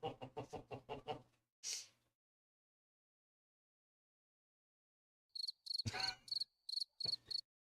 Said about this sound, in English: you better just keep the crickets going.